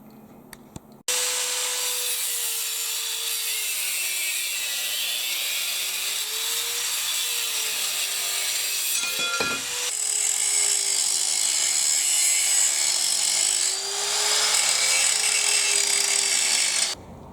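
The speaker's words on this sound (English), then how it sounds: "the 4-inch or 100mm disc grinder is a key power tool for this type of work" A continuous, loud whine of a 4-inch (100mm) disc angle grinder cutting a metal bar, running steadily with a brief interruption midway before resuming.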